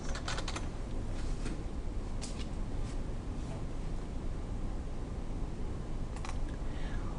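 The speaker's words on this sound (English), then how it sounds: "we'll type in Salary Report." Typing on a computer keyboard while entering spreadsheet text, heard as a few scattered light clicks over a steady hiss of background noise, with no one speaking.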